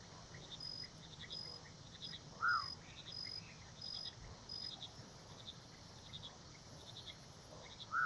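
Night ambience of frogs and crickets in the video game Mudborne: a steady high insect trill with soft repeated chirps and an occasional brighter call, quiet and continuous with no voices.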